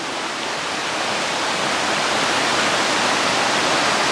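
Rushing river water along a scenic walking trail produces a dense, steady broadband roar, loud and close, with no voices over it.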